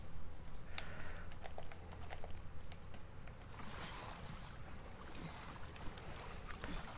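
Motorboat in The Last of Us Part II, a rushing wash of water and engine noise that is stronger at first and then eases to a softer, steady hiss.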